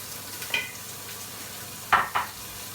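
Onions frying in leftover bacon fat in a hot pan, a soft continuous sizzle with a few sharp clinks and scrapes of a utensil against the pan.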